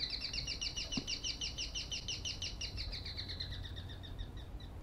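Small birds chirp in a video game scene, a quick repeating run of bright high tweets with a steady rhythm over a quiet ambient background, fairly faint.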